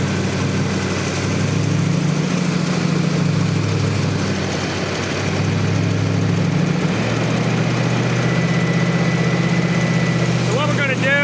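Rebuilt car engine idling high during camshaft break-in, a loud steady drone that dips in pitch briefly and recovers, close up with a brief chirp near the end.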